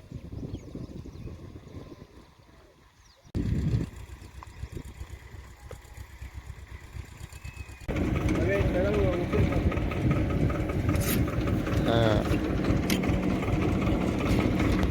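A tractor engine idles on a farm field ahead of wheat sowing, with a steady mechanical chug that grows louder and closer partway through, while someone talks over it.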